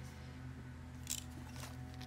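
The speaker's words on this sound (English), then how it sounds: "I have over here a pair of these scissors that are, they say stamp." Cheap children's Fiskars stamp-edge scissors cut through paper in one brief, close snip over a steady low hum, with no talking.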